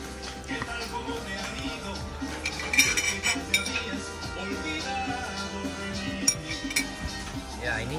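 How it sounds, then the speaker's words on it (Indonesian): Metal cutlery clinks and scrapes against plates during a meal of fried fish with rice at a beachside resort. The steady clatter runs throughout, with voices talking nearby. "Kita sedang makan ikan goreng."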